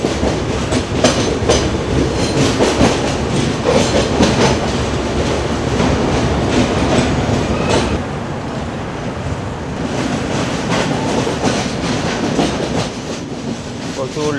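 Konkan Railway train 22150 heading into a tunnel, a loud, continuous rumble and clatter of wheels on rails heard from onboard, the roar shifting and muffling partway through, with no voices.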